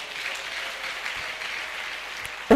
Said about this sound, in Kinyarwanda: Imana tuyikomera amashyi menshi cyane.